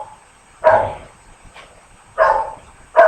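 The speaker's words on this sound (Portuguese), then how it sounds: "É só eu começar a live e ele começa a latir" A dog barks three times in short, loud, close bursts spaced well apart, with a faint yip between them and quiet room tone in the gaps.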